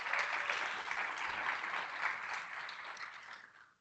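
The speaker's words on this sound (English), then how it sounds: "Tarhurley one more round of applause." An audience at an alumni awards evening gives a round of applause for an honoree, a dense, steady wash of many hands clapping that tapers off near the end.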